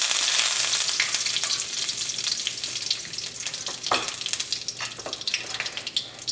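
Curry leaves hit hot oil in a pan already holding fried dried red chillies, for a Kerala cauliflower masala. A loud, steady, crackling sizzle runs throughout, with brief spits and pops and no talking.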